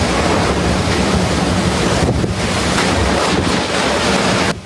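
Strong typhoon wind gusts in Kaohsiung, a loud continuous roaring rush buffeting the microphone throughout, with surging blasts and no voices.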